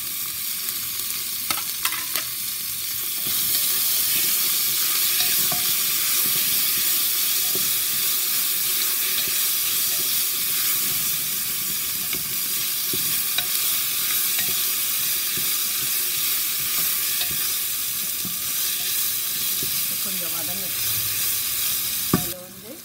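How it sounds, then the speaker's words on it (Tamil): Onions and tomatoes sauté in a pan for homestyle vegetable biryani, giving a steady, loud sizzle with occasional light stirring clinks, starting after a few quiet knocks and ending with a clatter. "வெங்காயம் பாதி வதங்கினா தக்காளி சேர்த்து தக்காளியும் போட்டுட்டு சேர்த்து வதக்கிடுவோம்"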